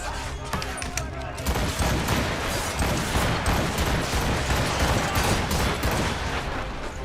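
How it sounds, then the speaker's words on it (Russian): Rapid, machine-gun-like gunfire rattles on and on in Assassin's Creed Rogue, loud and dense, layered with clanking battle noise and a talking voice. "Прям пулемет какой-то."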